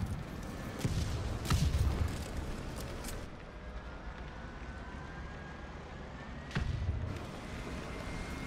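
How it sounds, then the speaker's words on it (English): Artillery shells exploding in the War Thunder tank game, two heavy booming impacts roughly six seconds apart over a constant low battlefield rumble, with no voices. "Really, artillery?"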